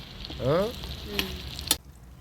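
Halved boiled eggs frying in hot oil give brief spits and pops over a soft sizzle, with a few sharp crackles near the end before the sound drops away.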